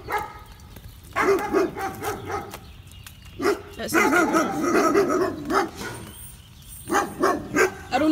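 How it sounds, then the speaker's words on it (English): Several dogs bark and yip repeatedly in loud, overlapping bursts close by outdoors while someone digs a small hole, with a voice speaking briefly underneath. "I don't know if you can even hear me throughout the dogs."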